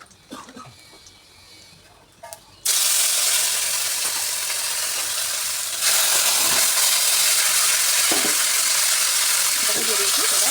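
Chopped banana flower is dropped into a wok of hot oil with fried dried red chilies; after quiet handling noises, a sudden loud sizzle erupts and keeps roaring steadily, broken by a few stirring scrapes.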